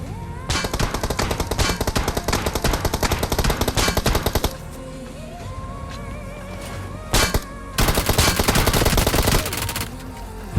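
Rapid automatic gunfire rattles in the BGMI mobile battle royale game, loud sustained bursts of shots with a short lull in the middle before another heavy volley.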